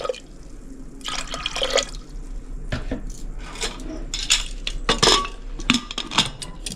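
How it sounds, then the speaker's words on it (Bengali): Water is poured into a pot of moong dal with bottle gourd, bitter gourd and drumsticks, giving splashing and dripping mixed with clattering of metal utensils and pot noises at close range. "পরিমাণ মতো অল্প জল দিয়ে দিলাম।"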